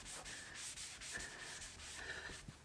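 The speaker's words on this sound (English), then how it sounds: "let me get a microfiber cloth." A microfiber cloth rubs steadily against stained car trim in repeated close strokes with a soft, dry, brushing texture, quiet and uninterrupted by talk.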